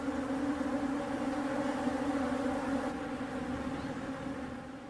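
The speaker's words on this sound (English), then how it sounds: "sometimes they attract thirsty bees drawn to this unlikely source of moisture" Thirsty bees swarm around wet towels in the Kalahari, a steady, fairly close buzzing drone that holds throughout, loud and unbroken with no voices.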